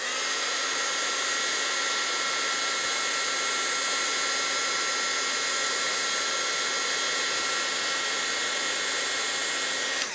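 An embossing heat tool melts sprinkled silver embossing powder, giving off a steady, loud blowing whir that holds unbroken for the whole stretch, like a hair dryer running close by.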